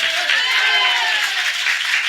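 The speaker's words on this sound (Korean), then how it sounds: "우리 하나님께 다시 한번 박수로 영광 돌리겠습니다." Steady, dense applause from a church congregation during a Sunday morning worship service, a continuous wash of clapping that holds evenly throughout without pauses.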